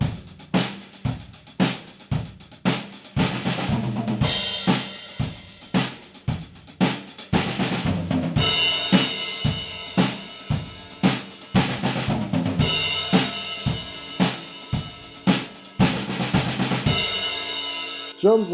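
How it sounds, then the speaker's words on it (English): A drum kit plays a sixteenth-note hi-hat groove that breaks into fills across the snare and toms, with loud, regular hits throughout alongside a backing music track. "When switching to a fill from a 16-note hi-hat rhythm, all you have to do is transition to the snare toms"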